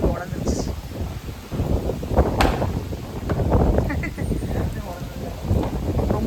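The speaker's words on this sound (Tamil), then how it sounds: "மழை வரப்போகுது பாருங்க, எப்படி காத்தடிக்கிறது." Strong wind gusts before rain buffet the microphone in a rough, continuous roar that swells and eases, with rustling underneath.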